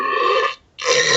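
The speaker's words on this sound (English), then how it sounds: "he lets out a belch after taking a swig from his flask" A loud, close belch after a swig from a flask during a Pathfinder: Kingmaker session, a raspy burst broken by a brief pause before it resumes.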